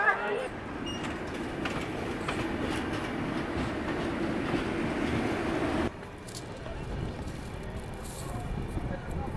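The Ajmer Mysuru Express passenger train runs along with a continuous low rumble and rhythmic clatter of the wheels. The tone shifts partway through, and crowd noise from inside the coach carries underneath.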